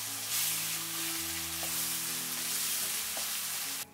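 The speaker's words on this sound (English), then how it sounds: "put the spices infused in white wine, 1 tablespoon of chili puree, and the fermented red tofu. Stir for 1 minute" Spices infused in white wine, chili puree and fermented red tofu fry in a pan for Chinese hot pot sauce, giving a loud, steady close sizzle with faint stirring that cuts off abruptly at the end.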